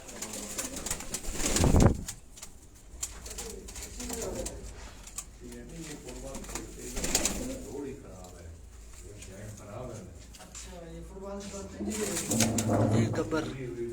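Pigeons coo repeatedly on a rooftop in Nawab Shah, Sindh, with soft rolling coos near the birds, wing flutters and handling noises, while someone talks throughout.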